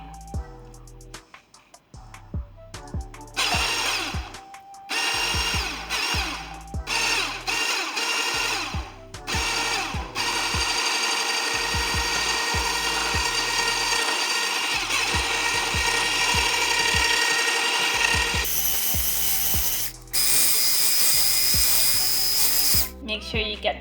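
Pancake batter of milk and salt being mixed in a jug, heard as a loud, close mechanical whirring that starts and stops in short bursts, then runs steadily and unbroken.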